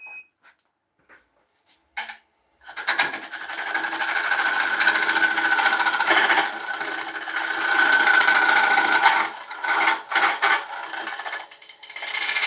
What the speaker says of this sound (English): piece of carbide, because I want to take this tenon off